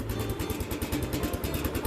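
Cub Cadet 149 snow thrower engine running steadily without the choke, a close, continuous low chugging idle with a regular pulsing beat.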